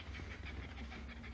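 A dog pants close by in a quick, steady rhythm of rasping breaths. The panting is fairly quiet over a low background rumble, with no talking.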